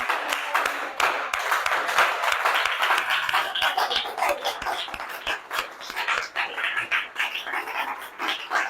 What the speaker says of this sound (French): quand on se lève pour acclamer Jésus, ça fait du bon bruit